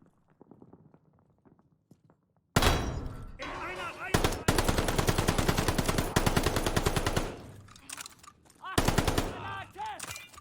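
Rapid automatic gunfire from the video game Call of Duty Vanguard rattles in long, loud bursts after a quieter start, with short pauses between volleys and scattered footsteps.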